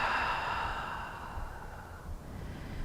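A long, soft exhale during a yoga session, one close, airy breath fading gradually over a few seconds with no talk.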